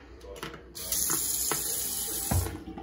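A tap runs water for oatmeal, starting with a few clinks before a steady loud gush fills a container, with a few knocks over the stream.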